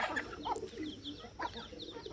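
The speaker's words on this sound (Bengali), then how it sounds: "আর এখানে আমাদের সব মুরগিগুলো খাবার খেতে এসেছে" Chickens gathered at feeding time cluck in soft, faint, scattered calls, a few short bursts rising over low background noise.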